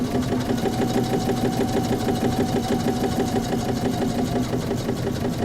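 A sewing machine stitches through vinyl with a fast, steady mechanical whirr and a rapid repeating needle rhythm, loud and close and continuing without pause.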